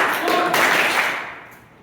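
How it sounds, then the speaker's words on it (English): A short burst of clapping, loud and close, a quick cluster of claps that fades out within about a second. "Clapping it in 5, 4, 3, 2, 1"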